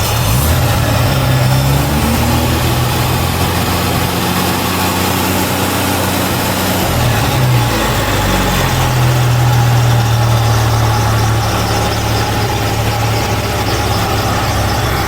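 A 1972 Jaguar XJ6 engine idles steadily and loudly up close, its low rumble roughened by serious exhaust leaks, with a continuous uneven chuffing throughout and no voices.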